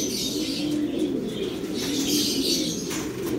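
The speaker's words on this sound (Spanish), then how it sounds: "Déjame enseñarle los palomos machos primero." Male pigeons cooing nearby, several soft, low, throaty coos repeating in a steady rolling rhythm, with faint chirps and a brief flutter of wings mixed in, no talking.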